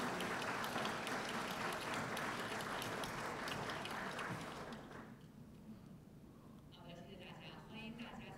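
Audience applause at a televised World Economic Forum business dialogue fills the room for about five seconds, dense and steady, then fades into quieter murmur as a voice begins speaking.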